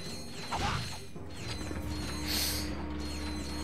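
Crates break apart in Ratchet & Clank 2, with mechanical clanks and crashing hits over busy game sound, including a brighter smash near the end.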